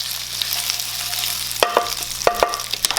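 Tomatillos and a handful of cherry tomatoes hit a hot pan, giving a steady frying hiss with a few sharp sizzling crackles and stirring clatters near the end.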